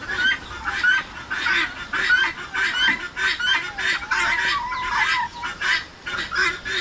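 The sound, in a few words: chicken clucking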